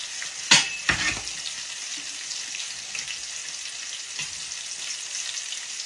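Onion rings or catfish fry steadily in hot oil with a continuous bright sizzle, close and fairly loud, with a couple of sharp clattering bumps near the start.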